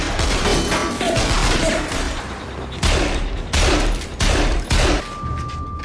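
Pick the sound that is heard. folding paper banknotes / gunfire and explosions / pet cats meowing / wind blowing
gunfire and explosions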